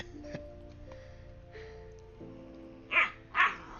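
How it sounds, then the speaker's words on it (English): Two quick, close barks from a small dog, sounding at the end over quiet background music. "It's such a vicious bark there."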